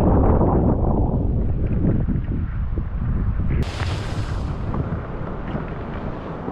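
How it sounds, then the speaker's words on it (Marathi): Strong wind blowing outdoors through grass, a loud, continuous, rumbling roar that buffets the microphone throughout, with one sharp gust-like shift partway through and no speech. "अतिशय जोरदार वारा आता सुटलेला आहे."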